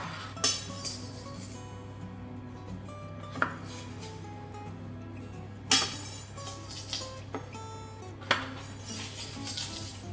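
Crumbly shortbread dough is scooped onto a baking tray, bringing a few sharp metallic clinks and taps of utensil against tray, spaced several seconds apart over a quiet kitchen hum.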